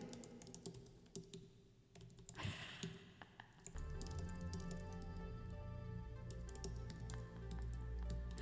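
Someone types rapidly on a computer keyboard with long nails, giving a dense, continuous run of clicky, tapping keystrokes, fairly loud and close over a low background hum.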